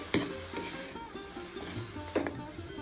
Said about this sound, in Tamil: இப்போது வேர்க்கடலை பொடியை இதில் சேர்த்துடலாம் இந்த எள்ளையும் இதில் சேர்த்துடலாம் இது நல்லா கலந்து விட்டுடலாம்